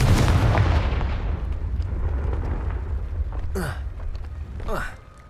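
Confringo spell explosion in Hogwarts Legacy, a loud booming blast that rumbles and decays over several seconds, followed by two sharp whooshing magical bursts near the end.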